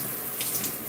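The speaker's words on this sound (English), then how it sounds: "Turn this water back on." A tap runs steadily at a sink, a brief, even rush of water with no break and no voices.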